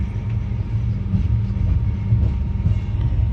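A passenger train pulls out of Koduru railway station, a steady low rumble of rolling wagons running close and continuous with faint rhythmic clatter and no voices.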